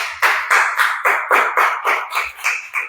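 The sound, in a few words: congregation applause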